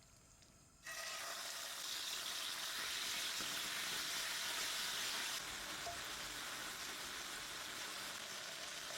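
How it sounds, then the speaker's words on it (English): Diced chicken pieces drop into an already heated pan and start to fry, a sudden loud, bright sizzle that holds steady and eases a little later, with no talking. "We get these pieces and fry them on our already heated pan."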